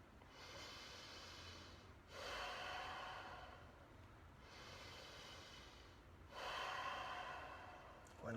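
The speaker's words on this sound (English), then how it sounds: "breathing through your nose." Slow, steady breaths drawn in and pushed out through the nose during a yoga pose, in long alternating waves, close and fairly soft.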